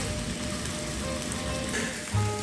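Heart-shaped food frying in a hot pan, a steady crackling sizzle with soft pops throughout, moderately close, with no talking.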